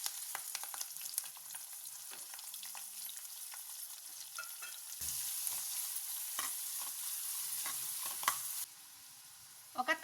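Onion and curry leaves sizzle in a couple of spoons of hot oil with popped mustard seeds and cumin, a steady crackling fry with occasional stirring scrapes, louder midway then easing off.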